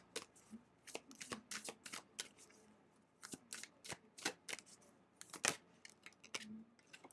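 Tarot cards being shuffled and drawn, a run of crisp riffling flicks and slaps in quick bursts with short pauses between, close and fairly quiet, with no talking.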